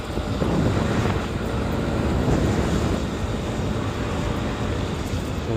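Strong wind blowing outdoors on a San Francisco street, a steady loud rumbling buffet across the microphone that holds throughout with no speech.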